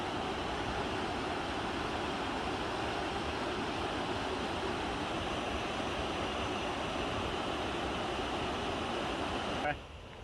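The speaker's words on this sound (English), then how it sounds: "A wild river, okay." Wild river water rushing in a steady, loud, broadband roar that continues unbroken, then drops away abruptly near the end.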